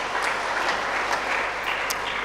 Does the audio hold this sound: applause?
yes